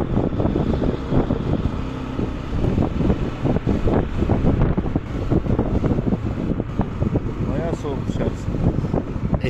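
Heavy wind buffeting the microphone while riding a Yamaha NMAX 155 scooter, a constant loud rumbling roar throughout, with a voice speaking underneath.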